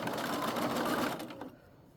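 A sewing machine stitches in the ditch along a V-neckline binding during an alteration, a steady, close whir of rapid needle strokes that runs for most of the moment, then slows and stops near the end.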